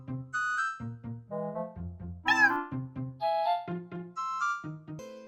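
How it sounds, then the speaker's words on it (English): A cat meows repeatedly in a steady string of short, clear, close calls that vary in pitch, with one higher, more drawn-out cry in the middle. "a message from Lucky, the like and comment kitty"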